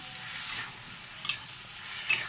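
Spice paste, potatoes and prawns frying in a pan, a continuous bright sizzle with a couple of brief stirring clicks, close and steady with no talking.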